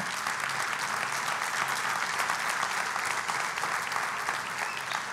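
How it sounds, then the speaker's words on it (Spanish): Even, continuous applause from an audience, a crowd clapping steadily for about five seconds at a moderate distance, with no talking over it. "eso merece un aplauso"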